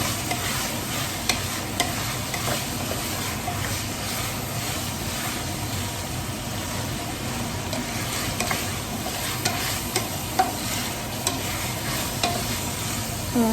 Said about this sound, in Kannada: ಅಲ್ಲಿವರೆಗೂ ಚೆನ್ನಾಗಿ ನಾವು ಎಣ್ಣೆಲಿ ಫ್ರೈ ಆಗಬೇಕದು